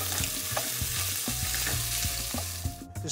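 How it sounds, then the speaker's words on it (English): Italian sausage with fennel seed sizzles steadily in a pan while a utensil chops and scrapes at it, sharp taps recurring every half second or so over the continuous frying hiss, close and clear, with no voices. "So we add this to the pan, and we want to chop it up as it cooks"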